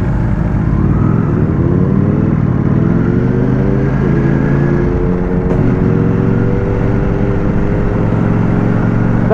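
Ducati motorcycles ride through the City of London at night, with a loud close engine drone whose pitch rises and falls as the bikes accelerate and shift. Wind noise runs under it, and no one speaks.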